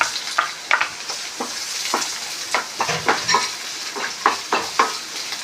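Sliced onions fry in oil in a pan over a stove, a soft continuous sizzle broken by repeated scraping stirs of a spoon against the pan, close and fairly loud with no talking.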